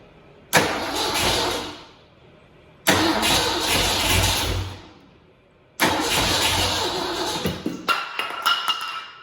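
A carbureted engine with no priming, gas or starter fluid cranks and catches three times in a row. Each time it roars up loudly and then dies away, and on the last run it keeps going with a rough, uneven idle.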